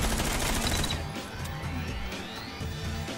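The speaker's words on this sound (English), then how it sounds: "Shoot the window." Rapid gunfire in Rainbow Six Siege, loud and dense from the start, with crashing breaks and mechanical clatter as shots hit a window, settling into a busy rattling game mix.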